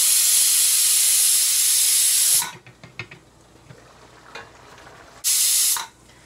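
A pressure cooker cooking rice blasts its whistle in a loud, steady hiss, cuts off, then after a few quiet seconds with faint clinks it shrills again briefly.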